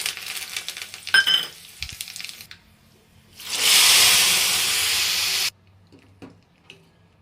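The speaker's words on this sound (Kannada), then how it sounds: "ಎಣ್ಣೆ ಕಾದಿದೆ. ಈಗ ಒಗ್ಗರಣೆಯನ್ನು ಹಾಕ್ಕೊಳ್ತಾ ಇದ್ದೀನಿ." Spices for the tempering of a cucumber buttermilk curry hit hot oil after a few clanks, setting off a loud, close, steady hiss of sizzling that lasts about two seconds and then cuts off sharply.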